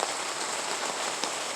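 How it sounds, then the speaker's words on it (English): Steady rain drums on a greenhouse roof on a rainy morning, a dense, even hiss with a brief louder patter, close and continuous with no talking. "Yeah, it's raining."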